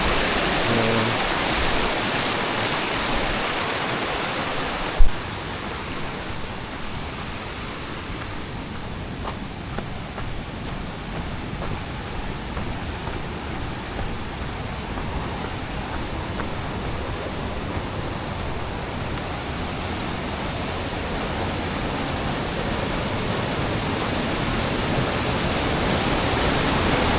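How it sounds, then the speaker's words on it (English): A small cascading waterfall on the Teton Crest Trail roars as a steady, loud, broadband wash of falling water, close by, with no voices. "got a waterfall there."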